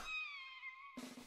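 A single drawn-out cat meow, clear and close, fading out, followed by a brief burst of muffled noise.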